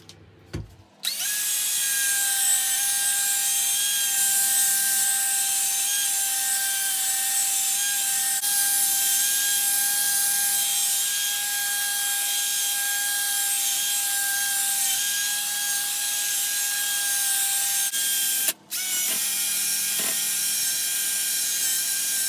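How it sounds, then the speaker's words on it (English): A resin and walnut side table is sanded with a steady, whirring rasp. The sound starts abruptly and holds an even drone, with one brief break near the end. "For now, let's carry on polishing. Or sanding."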